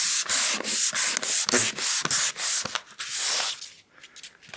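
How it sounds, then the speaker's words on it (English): Sandpaper rubbed by hand along a wooden baseball bat blank on a stopped lathe, a series of close, rhythmic scratchy strokes with brief pauses, loud and unaccompanied by voices. "So right now what I'm doing is sanding laterally across the blank with the lathe off"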